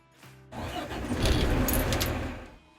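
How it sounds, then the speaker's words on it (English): A StarJet SRV-2 truck engine is started with the key. The starter cranks briefly, then the engine catches and runs at a loud, steady rumble before easing down, with no talking. "turn the key to the right to start the engine"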